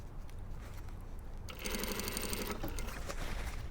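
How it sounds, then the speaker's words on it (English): Sewing machine stitching a 6mm facing seam on a garment: a steady, fast mechanical whir and patter of the needle that starts midway through, over a constant low background hum, with no talking. "we're sewing it as a 6mm seam, but we're using the outer garment's seam allowance"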